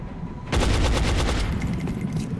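Rapid burst of gunfire in the XCOM: Enemy Unknown strategy game, a loud, dense volley of shots starting abruptly and rattling on for about two seconds with no talk.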